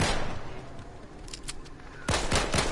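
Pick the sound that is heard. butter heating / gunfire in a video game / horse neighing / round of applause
gunfire in a video game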